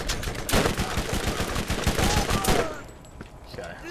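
Rapid bursts of gunfire from a shotgun in the video game Borderlands, loud and close, with repeated sharp blasts over about two and a half seconds before dropping to quieter game ambience.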